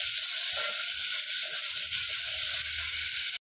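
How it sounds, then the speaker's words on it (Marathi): Finely chopped onions fry with cumin in a pan, a steady close hissing sizzle with faint stirring scrapes underneath, continuous and wordless until it cuts off abruptly. "कांदे चांगला गोल्डन ब्राऊन होईपर्यंत व्यवस्थित परतून घ्यायचा आहे आपल्याला."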